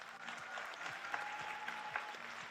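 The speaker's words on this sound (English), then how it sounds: "Give her a big round of applause." Audience applause at a high school scholarship night, steady continuous clapping from a crowd in a hall, moderately distant with a faint tone running underneath.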